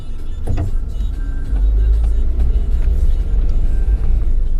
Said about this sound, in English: I'm just driving around, see, learn my way around